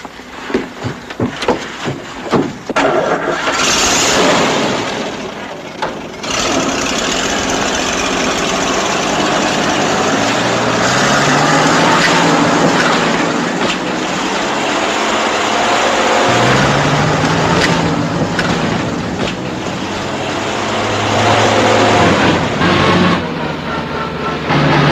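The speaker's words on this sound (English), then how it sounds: "Keep racing that engine and get us in so deep we'll never get out." A car's all-wheel-drive engine stuck in mud roars under heavy throttle, holding a loud, sustained, rough drone that rises and falls in pitch, with no talking.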